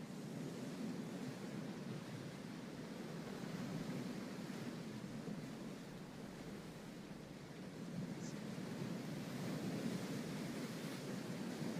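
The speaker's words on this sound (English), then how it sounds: "beautiful lapping of the ocean" Gentle ocean waves lap continuously at a waterhole shoreline where a penguin stands, a soft, steady wash of surf heard fairly faint and alone with mild wind.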